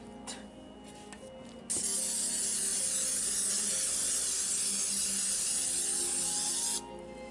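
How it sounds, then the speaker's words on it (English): Olive oil cooking spray hissing into a cake pan: one continuous loud spray of about five seconds, close by, between quieter handling noises. "We're gonna spray it in the pan so that way whenever the cake batter is actually done cooking, it won't be stuck to the pan"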